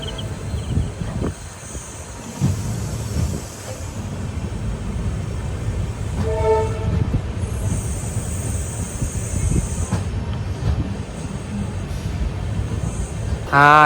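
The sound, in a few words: express train pulling into Thiruvarur Junction station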